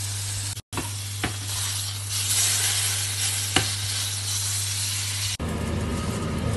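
Duck pieces browning in a hot pan on both sides, a steady close sizzle and spatter of frying with a few brief stirring knocks and a short break partway through.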